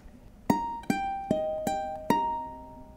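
A ukulele plays the closing bar of "In the Hall of the Mountain King" as five bright plucked notes at an even pace, each left to ring out, the last one sustaining.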